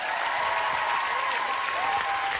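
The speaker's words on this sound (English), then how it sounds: "Round of applause for our judges." Studio audience at a UK X Factor spin-off show breaks into sustained, dense applause for the judges, loud and close, with a high whistle-like tone running through the clapping.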